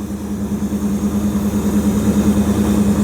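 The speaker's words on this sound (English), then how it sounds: "It sounds like it's idling about 500 RPM higher than it was." The 360 engine in a 1929 Chrysler, fitted with an Edelbrock AFB carburetor and fixed after running rich on one side, idles nearby with a smooth, steady pulsing hum and no audible misses.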